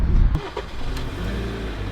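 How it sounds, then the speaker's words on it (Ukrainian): A 2013 KIA Sorento 2.4 petrol automatic engine catches at the start, then settles into a steady low idle that runs close by without pause. "Зараз заведемо, подивимося, як працює наш двигун"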